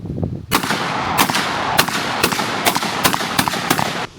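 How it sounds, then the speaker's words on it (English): Twin color case hardened Desert Eagle pistols firing outdoors, about eight loud sharp reports spaced irregularly, each with a short booming tail. "This is the Desert Eagles, color case hardened twins."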